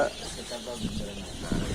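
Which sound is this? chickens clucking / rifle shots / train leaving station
chickens clucking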